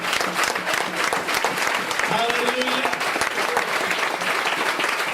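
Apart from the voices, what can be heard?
applause of praise in church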